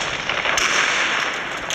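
Rapid, sustained gunfire from the video game Call of Duty fills the moment: a dense, loud, unbroken burst of shots with no voices.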